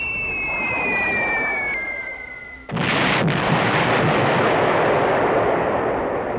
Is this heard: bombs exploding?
yes